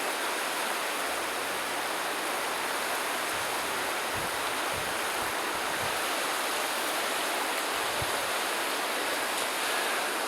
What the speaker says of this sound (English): I've been following this river for quite a while, and it's generally been quite a smooth thing, quite calm. But that's an unusually turbulent pace